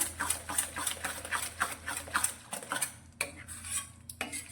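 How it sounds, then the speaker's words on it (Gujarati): Rajgira sukhdi mixture stirred in a metal kadai, a steady run of rhythmic spoon scrapes and clinks against the pan, fairly close and clear with no talking. "ફરી એકવાર મિક્સ કરી લઈશું"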